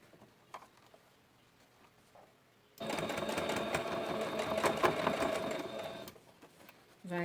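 Close by, a sewing machine stitches the lining of a fabric glasses case. Quiet handling comes first, then about three seconds of loud, rapid whirring stitching, and it starts again briefly at the end.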